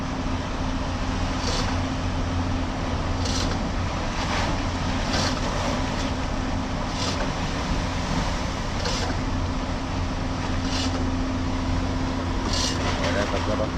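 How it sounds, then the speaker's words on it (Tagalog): Big ocean waves at Matnog pier in Bicol wash and roar continuously alongside heavy wind noise and a low boat engine drone, with periodic louder surges and people talking nearby. "Laki ng alon dito."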